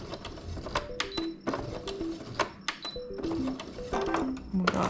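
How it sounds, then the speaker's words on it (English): A sewing machine stitches fabric while a broken visor is repaired, running in quick rhythmic mechanical bursts with short pauses between runs; a faint voice occasionally sounds under the machine. "We ended up sewing from here upward."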